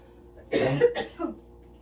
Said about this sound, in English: I'm gonna cough, excuse me.